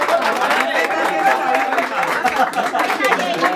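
Applause and crowd chatter at a birthday party with a youth mariachi band, a busy mix of clapping, cheering voices and laughter at close range, fairly loud throughout.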